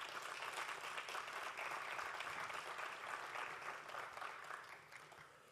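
Crowd at the READI Center launch applauds steadily, an even wash of many hands clapping that holds and then fades slightly toward the end.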